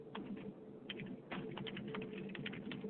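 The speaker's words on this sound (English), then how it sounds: "I'm typing this down to make sure that we get this out on Facebook" Quiet clatter of keys being typed on a computer keyboard, an irregular run of soft taps heard close and faint.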